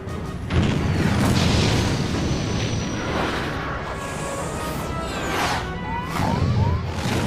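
Booming missile explosions in a modded Final Fantasy VIII game, dense rumbling blasts rolling continuously with crackling debris and swooping whistles near the end, loud and sustained.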